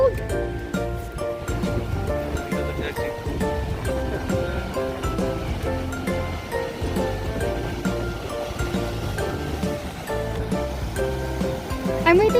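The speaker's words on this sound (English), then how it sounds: "I'm waiting for a big wave" Ocean surf washes and breaks steadily along the shore with a continuous broadband roar, accompanied throughout by music-like tonal layers and occasional voices.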